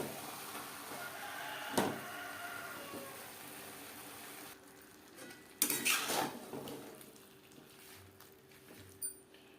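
Potatoes being stirred in a pan with cabbage and flat beans, a spoon scraping and clattering against the metal in two short bursts amid quiet kitchen background, faint and without speech.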